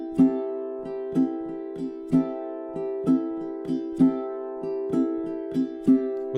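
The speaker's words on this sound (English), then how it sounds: "a ghost note going down and an up strum with the index" A ukulele strummed in a steady pattern, thumb pads brushing down with muted ghost notes and index-finger up strums, bright chords ringing close and clear on their own.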